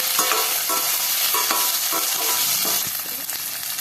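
Garlic, green chilli and ginger sautéing with onions in a pan, a steady close sizzle with intermittent scraping stirs of a spoon across the pan, no voices.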